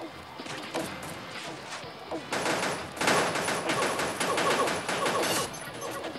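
Rapid gunfire in the mobile shooter Pixel Gun 3D, dense bursts of shots that thicken into sustained automatic fire in the second half, with a voice talking faintly underneath.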